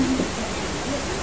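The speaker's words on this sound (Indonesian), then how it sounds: "Ini suara sungai ya? Aku pikir suara hujan." Steady broadband rushing of flowing river water, fairly loud and constant, with a brief voice-like murmur near the start.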